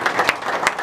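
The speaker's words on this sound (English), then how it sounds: "applause" A brief burst of audience applause at a Knights of Rizal chapter anniversary celebration, dense clapping with a couple of sharper claps standing out.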